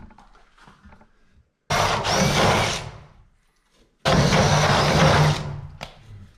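A power drill bores through wood during a PEX water-line installation in two loud, close bursts of about two seconds each, with a grinding whine and a quieter pause between them.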